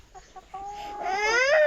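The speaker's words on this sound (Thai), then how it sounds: "นี่ไก่ตื่นมาแล้วนี่" Laying hens cluck and squawk close by, a few short clucks building into a rising, drawn-out call that swells in loudness over under two seconds.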